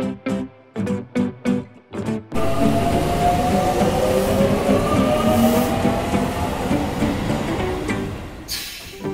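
A train runs steadily with a continuous rumbling roll and clatter, loud and close, after a short run of rhythmic bursts, with no talk over it.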